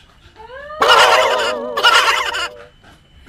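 A turkey gobbles loudly in two rapid, rattling bursts, preceded by a few rising calls and trailing off into quiet.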